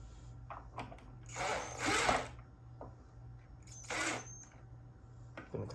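A power drill drives screws into a hinge while building a wooden fishing rod holder. There are two short whirring bursts, one longer and one brief, set against a quiet room.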